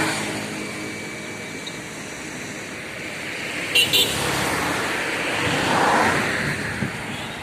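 Tata Nexon car driving along Palm Beach Road, a steady hum of engine and tyres with surrounding traffic noise, a brief horn toot near the middle, and a voice talking over the drive.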